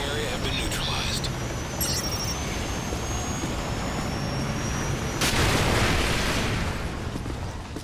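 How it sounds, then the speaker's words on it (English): Predator missile strike explosions in Modern Warfare 3, a loud broadband blast swelling midway through under steady rumbling battle noise, with game voices talking throughout. "Friendly Predator missile inbound."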